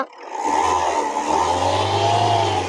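A 2016 Tata Indigo with a TDI diesel engine revs up from idle, its engine rising to a steady, loud drone held close by, with no talk over it.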